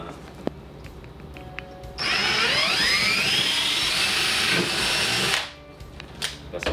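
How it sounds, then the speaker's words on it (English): Power drill bores a hole in a fiberglass motorcycle saddlebag for a Harley Softail Street Bob, a loud continuous whine with rising pitch lasting about three seconds, framed by quiet handling noises. "now I'll drill my last hole."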